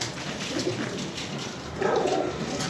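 Pigeons cooing close by, soft repeated throaty coos in a continuous murmur that grows a little louder near the end.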